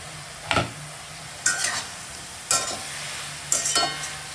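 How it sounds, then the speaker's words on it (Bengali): A spoon stirs spinach curry with carrot and potato (palong shaker ghonto) in a pan, four scraping strokes about a second apart over a soft background sizzle. "নাড়াচাড়া আবারও করে নিচ্ছি"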